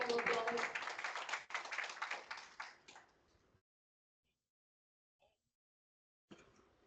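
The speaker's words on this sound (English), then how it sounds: "Let's give him a round of applause." Brief, quiet applause from a small audience after a talk at IndabaX South Sudan 2025, clapping fading out within a few seconds into silence before a voice resumes.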